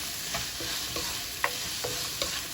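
Glass noodle soup ingredients stirred in a hot pan, a steady sizzle of frying with soft scraping strokes of the spoon at a regular pace, close and alone.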